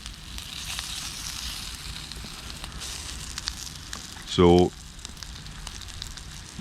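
Food frying in a collapsible nonstick camping pan outdoors, a steady soft sizzle and crackle throughout, with a brief voice and a short tonal sound partway through.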